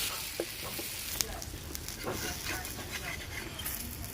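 Thin batter hitting a hot mustard-oil-greased tawa and being swirled around, giving a steady broadband sizzle with small crackles throughout, fairly quiet and continuous, with a little faint talk mixed in.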